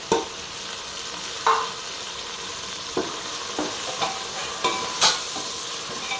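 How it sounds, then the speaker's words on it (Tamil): Onions with ginger garlic paste sautéing in a pan for chicken biryani, a steady sizzle punctuated by about half a dozen sharp scrapes and knocks of a spatula stirring. "வெங்காயம் வதங்கினதுக்கப்புறம் இஞ்சி பூண்டு பேஸ்ட்டு ஊற்றிப்போம் இது நல்லா பச்சை வாசனை போகிற அளவுக்கு வதக்கிக்கணும்"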